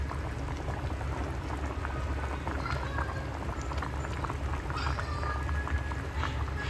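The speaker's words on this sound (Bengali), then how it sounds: "ট্যাংরা মাছের ঝোল রান্না হচ্ছে।" Tangra fish curry with potatoes and tomatoes simmers in a pot on the stove, a steady, continuous bubbling and spattering that holds evenly throughout, close by and moderately loud with no voices.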